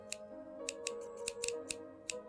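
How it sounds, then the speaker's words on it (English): Scissors snip in a video game, a handful of crisp metallic clicks set over a soft, steady musical background. "Oh, what a pretty pair of scissors."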